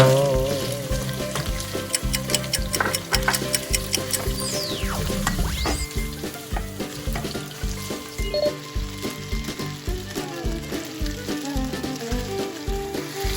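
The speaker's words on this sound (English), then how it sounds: "stir fry the pork until it's soft, until it's cooked" Pork stir-fries in a pan with a loud, continuous sizzle that crackles as the meat is moved, heard over rhythmic background music.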